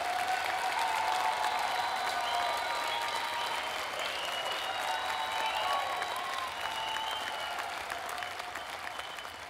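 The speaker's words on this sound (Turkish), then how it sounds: "Şimdi alkışlarınızla uğurluyoruz." Steady applause from a studio audience at a masked singing competition show, sending off a performer, dense and continuous for nearly ten seconds, fairly soft and slowly fading toward the end.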